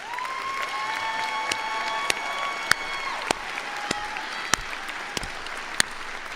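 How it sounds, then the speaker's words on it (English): A commencement audience at SUNY Oswego's College of Liberal Arts, Sciences and Engineering ceremony applauds steadily with scattered cheers, sharp individual claps and whistles standing out over the sustained ovation. "Let's give everyone a round of applause again."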